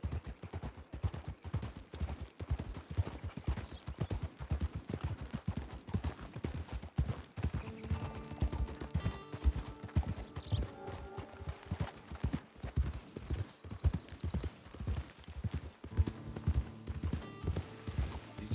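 Horse hooves clip-clop steadily in Red Dead Redemption 2 Online, with a rhythmic, close gait running the whole time under brief game music tones and faint voices.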